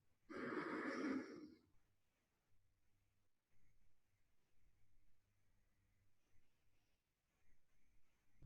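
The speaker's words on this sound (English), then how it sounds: "Take a deep breath." A single deep breath taken during Tummo meditation, drawn in close and fairly loud, then fading into near silence with only a faint low hum.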